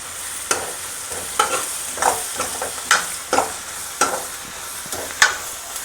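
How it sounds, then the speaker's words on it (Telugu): Bay leaf, cardamom, shahi jeera and curry leaves frying in hot oil in a pan for paneer butter masala, a steady sizzle broken by a series of sharp scraping stirs. "బిర్యానీ ఆకు, యాలుకలు, కొంచెం కరివేపాకు వేయండి. ఒక్కసారి కలుపుకోండి."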